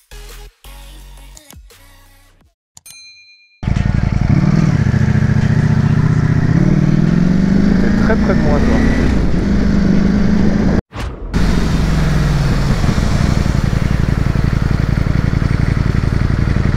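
A motorcycle running flat out on a French motorway during a long overtake, a loud, sustained engine roar with wind rush that swells and sags in pitch, preceded by a few quiet clicks and a brief dropout midway.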